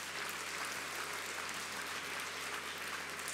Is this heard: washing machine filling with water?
no